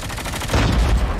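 A burst of video game sniper gunfire, loud and close, a quick run of sharp reports swelling in the second half of a very short moment.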